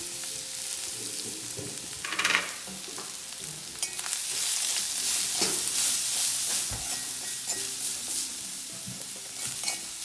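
Mixed taro leaf thoran ingredients dropped into hot coconut oil with mustard seeds, crackling and sizzling loudly up close, with scraping stirs and bursts of spattering across the whole stretch.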